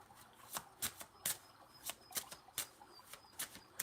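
Oracle cards being shuffled, a rapid series of crisp riffling flicks and snaps at irregular intervals, close and quiet with no talking.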